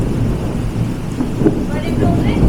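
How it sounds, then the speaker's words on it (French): Thunder rolls during a storm in Amed, Bali, a loud, deep continuous rumble with a rainy hiss beneath it, swelling slightly toward the end. "il y a eu un éclair"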